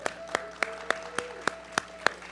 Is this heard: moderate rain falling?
no